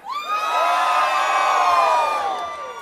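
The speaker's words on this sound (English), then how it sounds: "I heard two people screaming." A concert audience at a show at the Cubby Bear screams and whoops together in one loud, sustained, high-pitched roar lasting a few seconds before tapering off.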